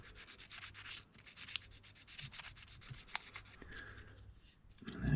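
Steady rubbing strokes of fine sanding on a plastic Aoshima model kit body of a Toyota Majesta UZS141, gently taking the shine off the surface, close and quiet with no talk.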